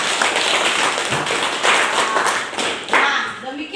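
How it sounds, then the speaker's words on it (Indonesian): A classroom full of students clapping hands together during a school lesson, a dense, steady patter of many claps that swells and fades over a few seconds. "Oke, tepuk tangan untuk kita semua."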